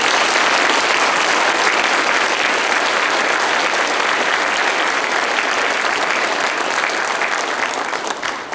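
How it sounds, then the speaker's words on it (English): A crowd at a Remembrance Day service giving a sustained round of applause, loud and dense clapping from many people that continues steadily and only starts to thin near the end. "So if you would give them all a round of applause."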